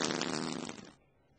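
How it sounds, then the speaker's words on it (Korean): A cartoonish fart sound effect for a tiger in a Korean children's show: one loud, buzzy blast that fades out over about a second. "자, 그럼 호랑이 방귀 소리는"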